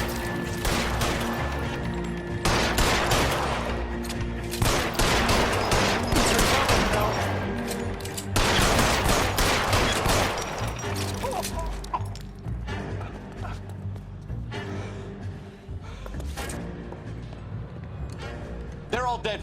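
Rapid gunfire in an LA Noire video game shootout, loud repeated bursts of shots with brief pauses between, then sparser shots fading toward the end, with voices talking over parts of it.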